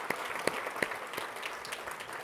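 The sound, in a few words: audience applause for three laureates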